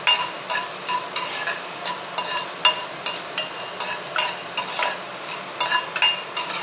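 Spice paste for chicken ghee roast fries in a pan over low heat, with a soft sizzle under rhythmic scraping and stirring strokes of a spatula against the metal, repeated every half second or so.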